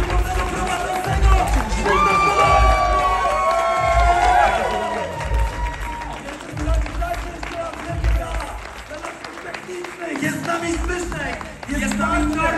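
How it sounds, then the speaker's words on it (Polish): Audience applause and cheering for the host at a Polish education event, sustained clapping with whoops and shouts from a crowd, while amplified voices talk over it. "wielkie brawa dla naszego cudownego prowadzącego"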